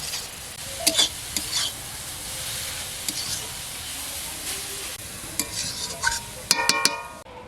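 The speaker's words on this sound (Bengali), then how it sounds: "এলাচ এবং দারচিনি দিয়ে ঘি দিয়ে ভালো করে ভাজছি" Carrots fry in ghee with cardamom and cinnamon, giving a steady close sizzling hiss broken by stirring scrapes and sharp clinks of a spoon against the pan, busier near the end.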